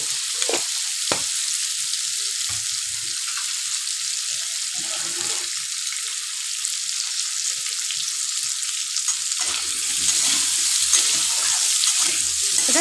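Sliced potatoes with turmeric fry in a pan, making a steady close sizzle with intermittent scraping as they are stirred; no one talks.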